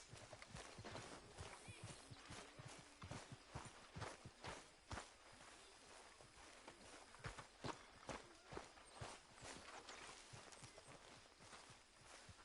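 Horse hooves clip-clopping at a steady walking pace in the video game Red Dead Redemption II, a fairly close, regular series of soft thuds with no talk over them.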